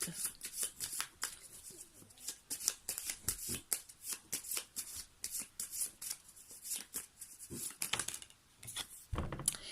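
Tarot cards are shuffled by hand for a reading, giving close, soft, papery riffles and flicks in quick, uneven bursts that run steadily throughout with no talking.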